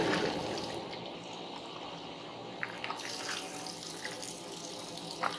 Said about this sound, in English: Get a plastic cup, fill it up with water,